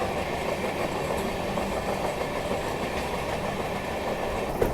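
The Mizoram Rajdhani Express, heard from inside a first-class coach, rolls steadily through Hathidah junction station, a constant loud rumble with faint clickety-clack of wheels and no voices.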